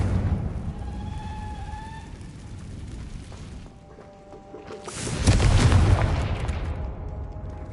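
A Confringo fire spell erupts in Hogwarts Legacy: a loud, broad blast surges in about five seconds in and rumbles on, after a quieter stretch of game ambience with tonal chimes.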